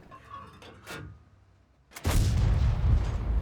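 A tank cannon in World of Tanks fires, a short sharp report followed by a loud, sustained rumbling boom that fills the rest of the moment, after a few fainter shots in the quieter opening.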